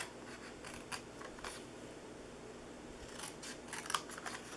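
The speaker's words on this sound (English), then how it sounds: "I'm going to cut about halfway off on both of these." Scissors snip through paper while a gingerbread man treat box is being cut out, giving a run of quiet, crisp cuts at an uneven pace with a brief louder snip near the end and no talking.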